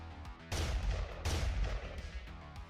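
Assault cannon gunfire effect during a Warhammer 40k tabletop battle, two loud booming bursts with rumbling tails over a faint musical backing, close and without voices.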